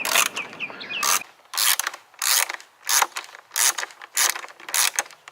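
Short rhythmic bursts of a ratchet tighten the fasteners on an engine air filter housing, about eight quick clicking strokes separated by brief pauses, close and clear.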